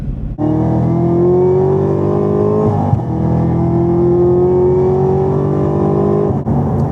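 A Camaro ZL1 engine revs hard and steadily climbs in pitch, with a quick break midway during a no-lift shift as it keeps pulling, loud and close.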